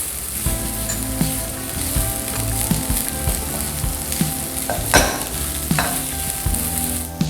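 Seasoned ingredients for Se'i, a Nusa Tenggara Timur dish, stir-fried in a pan, with steady sizzling and repeated scraping stirs, and a sharper clatter of the utensil near the end.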